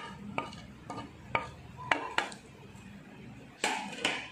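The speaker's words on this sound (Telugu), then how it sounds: "ఇవన్నీ వేసుకొని మనం ఈ పానీలో చక్కగా కలుపుకోవాలి" A spoon clinks sharply and rhythmically against a bowl while spice powders are stirred into homemade panipuri water, a series of close, distinct taps with short pauses between them.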